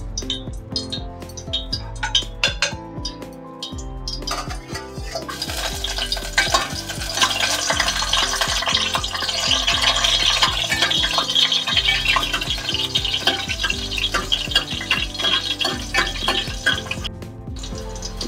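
Garlic frying in a hot pan over high heat, a steady close sizzle mixed with repeated scraping and clinking of a spoon stirring against metal, with no voices.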